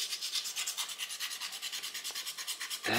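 Aluminum foil rubs rust spots off chrome in steady rhythmic back-and-forth strokes, a close scratchy rasp repeating about every fifth of a second, with a louder scrub at the very end.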